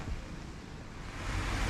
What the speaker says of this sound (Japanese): 心を打ってくる雨です。